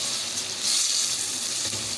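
Tomatoes tipped into a pan of frying ginger and garlic for karahi qeema, giving a steady hissing sizzle that swells briefly near the start, close and fairly loud with no voices.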